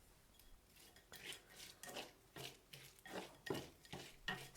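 Shelled shrimp are tossed with salt and Shaoxing cooking wine in a bowl, producing a series of close, soft wet scrapes and clinks of a utensil against the dish in an irregular stirring rhythm.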